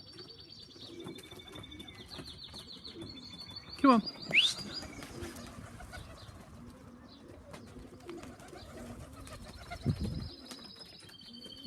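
Pigeons wheeling in flight around a loft, giving scattered distant chirps and coos with a few brief louder calls, while someone speaks briefly nearby.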